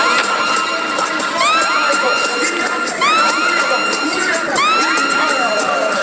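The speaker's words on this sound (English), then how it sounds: "Drunk crowd." Drunk crowd at a sold-out Barclays concert cheering and whooping loudly, a sustained roar of many voices with repeated rising shouts and whistles cutting through.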